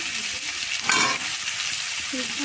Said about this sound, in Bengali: এখন আলু ভেজে নিচ্ছি